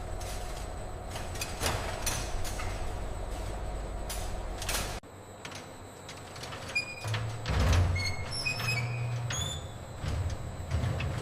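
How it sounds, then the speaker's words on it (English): A heavy smokehouse chamber door in a large sausage factory slides and closes with a sharp mechanical clunk, followed by a lower rumbling of industrial machinery with faint clicks and tonal whirs nearby. "The chamber door closes and a program sequence begins."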